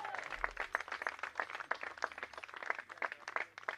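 Crowd applause with scattered clapping greets a senior soccer player at a college match, a steady rippling patter of many hands at moderate distance, alone without talk.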